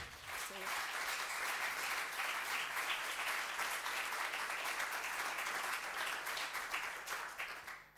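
Audience applause at an energy conference session, a dense and steady wash of many hands clapping that holds for the whole stretch before fading slightly at the end.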